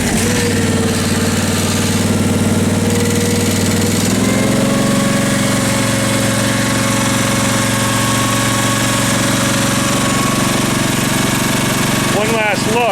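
A Case 446 garden tractor engine idles at low throttle, a steady loud drone that drops in pitch around four seconds in, with speech over it.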